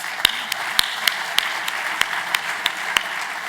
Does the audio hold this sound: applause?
yes